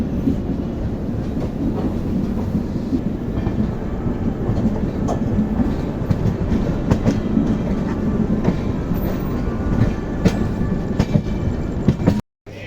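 A train near Sakleshpura, Karnataka rolls steadily along the track, changing tracks, wheels clattering in a continuous loud rumble with occasional clicks, ending abruptly.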